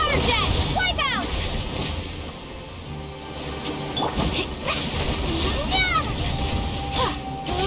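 Water jet attacks splash and slosh in a battle in Genshin Impact, with repeated bursts of spray and gushing water layered under busy game effects and voices throughout.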